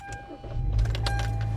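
Car engine cranking with the ignition key and catching after about a second, a brief whirring start rising into a steady running rumble, close and fairly loud.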